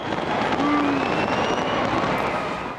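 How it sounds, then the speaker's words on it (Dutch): New Year fireworks over Auckland, New Zealand, heard as a continuous distant rumble and crackle with faint whistling trails rising through it, steady and loud throughout. "waar vuurwerk werd afgestoken en er een grote lichtshow werd gehouden"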